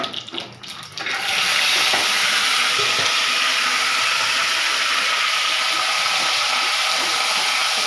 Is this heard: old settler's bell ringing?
no